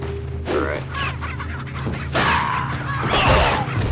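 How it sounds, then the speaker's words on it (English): Chickens cluck in a village pen in the Resident Evil 4 video game, several soft overlapping calls against steady game ambience with occasional louder bursts. "These chickens are laying a lot of eggs."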